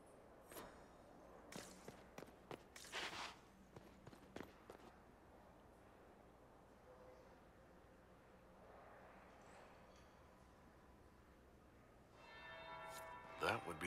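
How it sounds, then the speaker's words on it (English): A church bell in Dragon Age: Inquisition tolls a few faint, distant strokes near the start among soft footsteps and ambient murmur, then quiet room tone with a brighter clatter at the end. "That would be the second bell."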